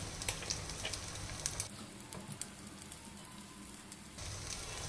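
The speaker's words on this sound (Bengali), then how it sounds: "আমি সাইড দিয়ে একটুখানি সর্ষের তেল দিয়ে দিচ্ছি" Mustard oil sizzles in a nonstick pan with pieces of ash gourd for a vegetarian ghonto, a steady crackling fry with brief sharp pops, dipping briefly before resuming.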